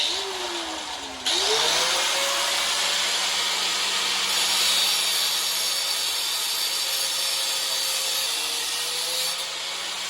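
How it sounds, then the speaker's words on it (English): An angle grinder cuts a metal bar to size, spinning up with a rising whine, then holding a loud, steady abrasive hiss and screech as it bites into the steel, close by and alone. "Hooked up the grinder. Found a piece of this bar. Let's get it cut to size."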